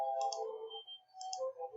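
Computer mouse double clicks during a spreadsheet formula tutorial, with two close, crisp click pairs about a second apart, near and fairly quiet over a faint background hum.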